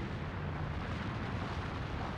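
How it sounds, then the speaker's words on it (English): An explosion sound effect for an overcharged crystal power plant in ancient Atlantis gives a dense, sustained roar of loud broadband noise, unbroken and with no voices. "causing a terrible explosion."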